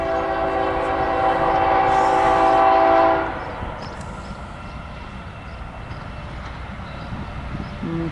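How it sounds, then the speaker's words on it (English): An eastbound BNSF freight train, a port stacker, passes in the desert: a loud sustained horn chord for about three seconds, then a steady rumble of rolling cars continuing under it. "Here's my first eastbound BNSF freight of the day."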